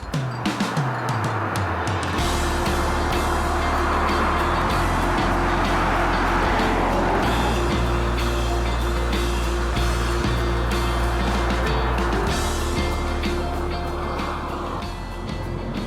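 A vehicle driving past golden grass and olive plantations near a white-painted village, its steady low engine drone and road rumble continuing throughout, with faint scattered clicks and rattles above.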